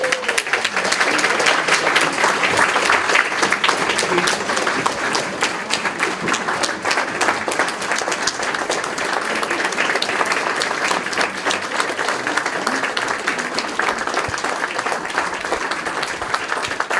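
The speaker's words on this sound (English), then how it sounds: "I'd like to have you all give a round of applause to our Senator" An audience in Montpelier gives Senator Patrick Leahy a loud, sustained round of applause, a dense wash of many clapping hands holding steady for around seventeen seconds with no voices on top.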